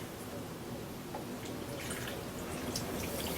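Liquid poured steadily into a container while coating a belt grinder part, a continuous trickling wash with faint drips, fairly close and alone.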